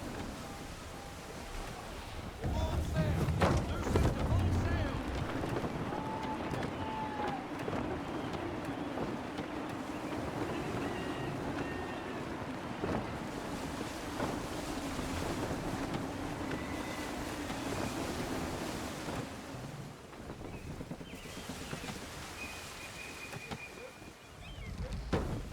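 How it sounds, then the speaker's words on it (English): Wind and surf surround a sailing ship at sea in Assassin's Creed III, a continuous rushing wash of waves and gusts at a steady moderate level, with faint creaks and tones now and then. "Wind looks to be shifting. Stay alert, Connor. Gusty winds can be difficult to manage"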